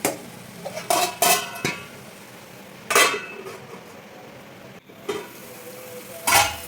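Bitter gourd curry fries gently in oil over a low flame, with a spoon stirring and scraping the pan in several short, close bursts over a soft steady sizzle.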